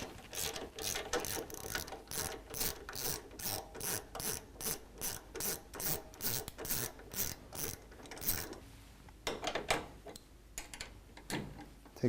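A ratchet clicks in steady rapid bursts as it backs out Torx T40 fasteners on an S&S Cycle-equipped motorcycle, a loud close run of ticking strokes that pauses briefly near the end, with no talking.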